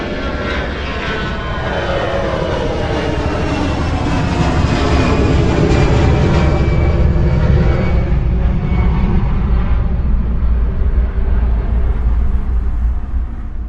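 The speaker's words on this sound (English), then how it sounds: "Experience how capable the Auro-3D system is at reproducing the exact position of an airplane as it passes by, from taking off to flying directly overhead" An airplane takes off and flies directly overhead, a broad roaring jet rumble that swells steadily and stays loud for over ten seconds. A high engine whine sweeps downward as it passes.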